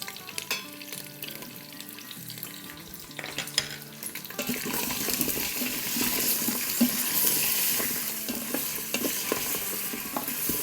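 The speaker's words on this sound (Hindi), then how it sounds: "अराउंड 1 मिनट हो गया है लहसुन अदरक के साथ भूनते हुए" Ginger and garlic paste fries with paya in an Instant Pot, a loud, close, continuous sizzle that grows denser and more hissing partway through, with scraping stirs near the start and no talking.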